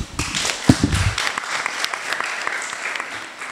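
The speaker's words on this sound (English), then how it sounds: "Clap for her." A classroom of children claps for a girl who placed first in her class, a dense, steady patter of many small hands, close and lively, with a brief voice near the start.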